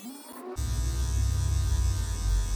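An electric hair clipper switches on and runs steadily, buzzing close up while trimming the lower part of the head during a home taper fade haircut.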